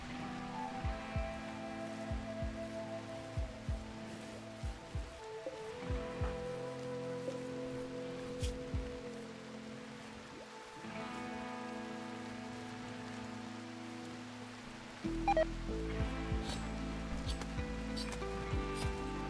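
Rain falling in the colony game RimWorld, a soft steady patter beneath layered tonal game music with scattered clicks, staying faint throughout and without speech.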